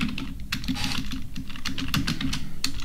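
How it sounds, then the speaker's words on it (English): Someone types on a computer keyboard in a quick, uneven run of close, crisp key clicks with a low background hum and no talking. "I can actually go back in here and simply type some more"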